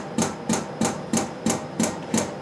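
An SFT-120 CO2 pump starts actuating, giving a steady series of sharp mechanical knocks about three per second, each one clear and close with a faint hiss between strokes.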